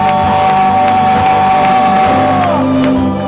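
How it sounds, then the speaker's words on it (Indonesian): A church congregation cheers and shouts in a sustained loud wave of whoops and yells, with sung or held tones running underneath. "Mari berikan tepuk tangan sorak-sorak yang terbaik"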